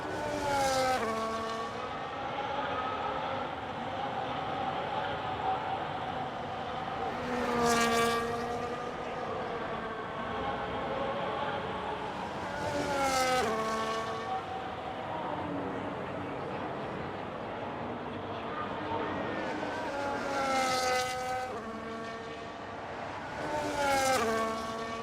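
F1 race cars in the F1 25 video game at the Miami GP sweep past in repeated high-pitched engine whines rising and falling, four or five distinct passes over a constant background roar.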